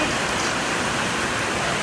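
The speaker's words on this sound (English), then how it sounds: "It is pouring down raining out here." Heavy rain pouring down in a dense, steady hiss, close and unbroken.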